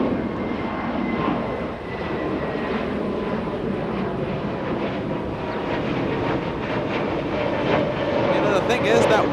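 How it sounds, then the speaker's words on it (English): A jet airliner rolls out after touchdown at Los Angeles International Airport, a steady loud roar of engines and reverse thrust under ongoing conversation. "It was a late touchdown, and it still managed to slow down and exit on Alpha 8."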